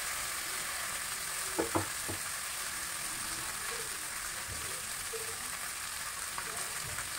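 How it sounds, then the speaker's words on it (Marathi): Chopped fenugreek greens and garlic sizzle in a pan with a steady, soft frying hiss, and a few light clinks from stirring come near the start. "आता आपण यामध्ये निवडलेली जी भाजी आहे ती मी चिरून घेतलेली आहे आणि ती घालायची आणि परतून घ्यायची"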